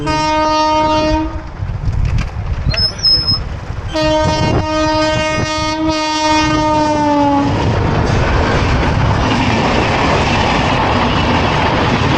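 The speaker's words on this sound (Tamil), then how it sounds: "இது வருது, ட்ரெயின் வருது காய்ஸ்." A loud train horn sounds in long sustained blasts, then the rushing rumble and clatter of the passing train takes over, close and steady.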